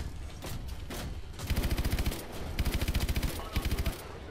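Automatic weapon fire in Call of Duty Advanced Warfare, several rapid bursts of rattling shots separated by short pauses, with quieter game ambience between them.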